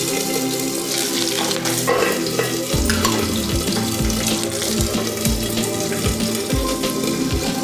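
Curry leaves, garlic and tamarind fry in hot oil for a ridge gourd chutney, giving a loud, steady sizzle and crackle close up, with a few soft knocks from stirring partway through.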